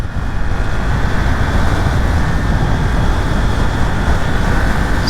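Yamaha MT-10 motorcycle from 2023, ridden on a slippery road, with a loud, steady engine drone and airbox induction roar mixed with wind rush, no voices.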